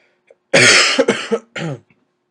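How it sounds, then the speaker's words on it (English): Three harsh coughs close to the microphone, the first long and loud, followed by two shorter ones after brief pauses. "I've been coughing all in this video"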